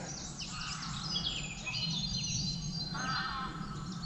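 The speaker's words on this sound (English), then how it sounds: "Oh, some interesting bird noise as well. Geese." Geese call at a campsite with a few honking and squawking cries at moderate distance, over a low steady background hum.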